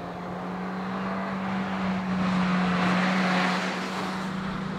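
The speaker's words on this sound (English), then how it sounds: "You can really hear this engine note in the cabin" A Ford Fiesta ST turbo engine drones steadily inside the cabin while driving, a constant low hum that swells slightly in the middle and holds at a moderate, even level throughout.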